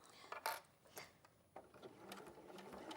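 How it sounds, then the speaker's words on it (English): A sewing machine stitches around a fabric wildlife panel, with quiet, uneven bursts of rapid needle clatter and brief pauses between runs. "So I'm going to sew this up now."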